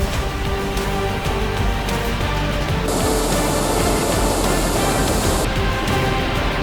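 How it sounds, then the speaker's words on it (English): Steady, loud roar of a rainforest waterfall heard from right behind the falling water, a dense continuous rush with no talking. "We're right behind the waterfall."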